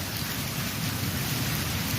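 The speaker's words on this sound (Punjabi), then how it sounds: "ਮੋੜੇ ਧਾਰ ਬਰਸਾਤ ਹੋ ਰਹੀ" Heavy monsoon rain pouring down in early July, a dense, continuous roar of drops drumming on surfaces close by, steady and loud from start to finish.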